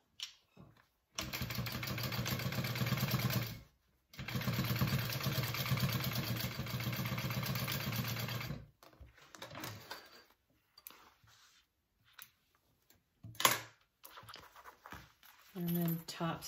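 A sewing machine stitches the seam of a fabric shoulder bag in two long, steady, loud runs of rapid mechanical whirring, followed by shorter bursts and handling noises, with a person speaking in the gaps.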